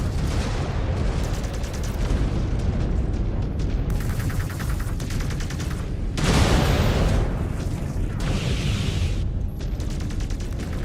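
Missile explosions and weapon fire in the mech combat game MechWarrior 5 Clans, a continuous dense barrage of booms and blasts with bursts of louder impacts throughout.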